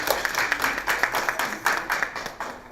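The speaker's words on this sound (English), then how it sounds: "Let's give her a round of applause" An audience claps for a presenter at a drug education talk for parents and teachers, a scattered moderate round of applause from a room of people, with some voices underneath.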